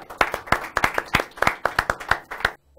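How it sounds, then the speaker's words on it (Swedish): A few people clap hands in a quick, uneven rhythm of sharp, close slaps for a couple of seconds, ending abruptly, during a Swedish guess-the-artist game with friends. "Applåder."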